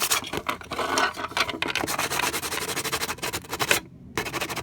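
Old paint on a Nerf toy blaster is scuffed up with close, steady rasping strokes. The rubbing runs almost continuously, with one brief pause near the end.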